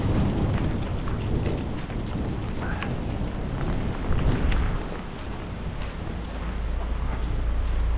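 A thunderstorm in Sidi Bel Abbès, Algeria, brings heavy rain and gusting wind, a loud continuous roar of downpour and buffeting air with a low rumble swelling and easing near the end, no one talking.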